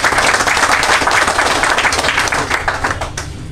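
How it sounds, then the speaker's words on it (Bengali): Audience applause at a pigeon society award ceremony, a loud, dense burst of many hands clapping together that carries on steadily and tapers a little at the end. "সবাইকে বলবো একটা জোরে করতালি দিয়ে তাদেরকে উৎসাহিত করব"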